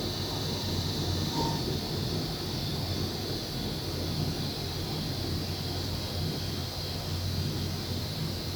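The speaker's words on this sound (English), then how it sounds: "This is the sound of the DC generator running down in the motor room." An old DC generator for an Otis lift runs in a motor room, giving a steady, even broadband hum and hiss with a faint high whine, continuous and unchanging throughout with no talking.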